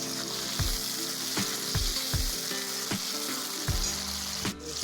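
Chopped tomatoes sizzle in hot oil with dried red chillies for a desi chicken curry, a steady frying hiss broken by regular scraping stirs of the spoon against the pan, close and continuous with no talk.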